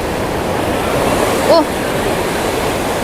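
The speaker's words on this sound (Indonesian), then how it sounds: "Ombaknya makin gede, makin naik tuh." Ocean waves crashing on a beach at night, a broad continuous roar of surf close by and loud, with a brief voice partway through.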